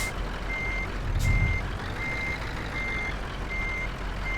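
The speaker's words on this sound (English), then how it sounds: "We're just going to back this one up here" Reversing beeps from a Scania truck backing up a DHL trailer in Euro Truck Simulator 2, a steady series of evenly spaced electronic tones repeating over a low engine rumble, with one brief louder thump near the start.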